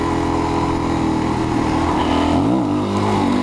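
A Suzuki DRZ400SM supermoto engine drones loud and steady close by, with a brief rise and dip in pitch partway through as the throttle is worked before a wheelie attempt.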